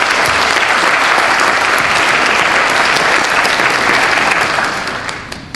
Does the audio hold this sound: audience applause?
yes